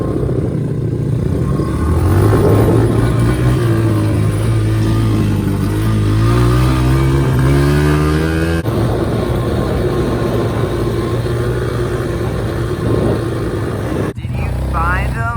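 Dirt bike engine running and revving nearby, its pitch climbing and falling over a steady loud drone, with people talking over it before the engine cuts off near the end.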